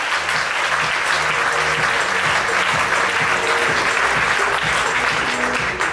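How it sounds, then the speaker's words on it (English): Audience applause welcoming a speaker to the stage at a talk, steady and dense throughout, a full room clapping together at close range with no talk over it. "So I'd like to welcome him to stage with a round of applause, Thomas Carothers."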